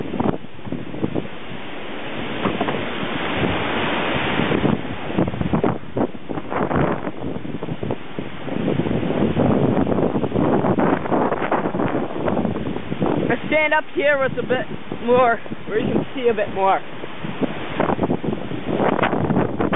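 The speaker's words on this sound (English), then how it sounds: "That last gust of wind almost knocked me over, along with the garbage can." Strong hurricane wind in Ohio buffets the microphone in heavy gusts while someone talks throughout, with a roaring, rushing background.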